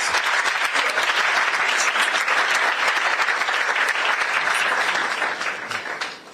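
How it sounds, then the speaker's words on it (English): A large audience claps in a steady, dense wash of applause that holds loud and even, then thins and fades over the last second. "I think this performance deserves another round of applause, please."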